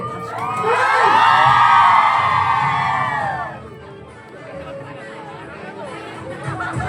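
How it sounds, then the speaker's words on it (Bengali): An audience cheering and shouting for a celebrity makeup artist, a loud burst of whoops and excited voices that swells and then fades into murmuring crowd chatter. "Everybody, একবার জোরে হাততালি হয়ে যাবে"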